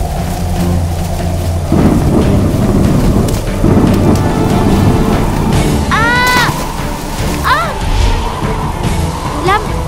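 Cartoon thunderstorm effect of heavy rain pouring steadily, with rumbling thunder and sharp crackling bursts, loud and close throughout, overlaid by a few rising whistling tones late in the storm.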